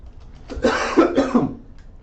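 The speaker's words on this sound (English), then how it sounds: "Excuse me, I had to cough." A burst of two or three harsh coughs in quick succession, close and fairly loud, with no talking.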